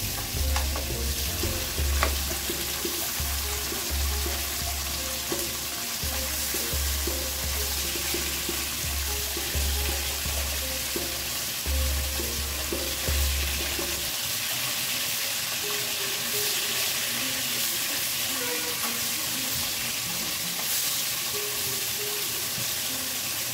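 Koi fish fries lightly in hot oil, making a continuous dense sizzle with occasional crackles and stirring sounds, close and steady throughout. A low hum sits underneath for the first half, and no one speaks.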